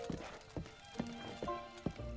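Horse hooves clip-clop in Zelda: Breath of the Wild, several distinct hoof strikes at an uneven trotting pace, fairly close and clear, with faint game tones underneath.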